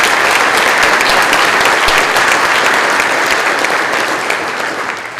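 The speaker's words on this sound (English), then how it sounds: "Would you give them a round of applause, please?" A large audience at a police academy graduation ceremony claps steadily and loudly throughout, a dense wash of applause that eases slightly toward the end.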